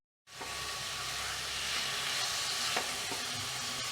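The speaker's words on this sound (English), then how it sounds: "I have been frying it for last 2 to 3 minutes." A steady, loud sizzle of a coconut and sugar mixture frying in a pan, with occasional stirring scrapes, starting abruptly and continuing without talk.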